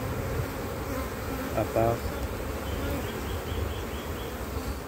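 Honey bees buzzing around an open hive during a spring colony inspection, a dense, continuous drone filling the scene up close, with a brief French-speaking voice heard over the hum.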